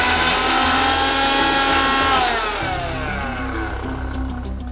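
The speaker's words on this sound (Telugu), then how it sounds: "అవి గ్రైండ్ చేసేద్దాము." A mixer grinder whirs loudly and steadily while grinding roasted red chillies, coriander seeds, cumin and garlic for a radish chutney, with the motor pitch shifting partway through as the load settles.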